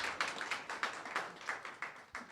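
Sparse, fairly faint clapping from a small audience at a health-tech fellowship showcase, individual claps pattering in an uneven rhythm for a couple of seconds.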